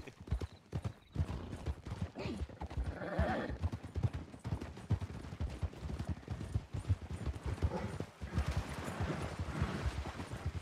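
Hooves clip-clop in a steady trotting rhythm as a horse is ridden in the Red Dead video game, continuous and fairly quiet, with a brief pause partway through.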